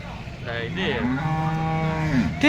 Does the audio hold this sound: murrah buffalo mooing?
yes